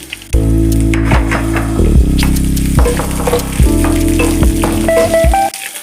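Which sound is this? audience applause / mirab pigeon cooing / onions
onions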